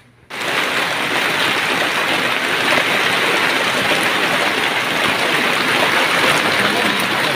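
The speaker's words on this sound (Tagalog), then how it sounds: "Sarap maligo sa ulan." Heavy rain pours down on an outdoor garden work site, a loud, constant hiss that starts abruptly and then holds steady throughout, with no voices heard.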